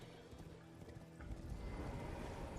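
Horse hooves clip-clop in Elden Ring, a video game, growing louder and denser partway through as the steed picks up pace, with a faint whinny-like tone and game ambience underneath.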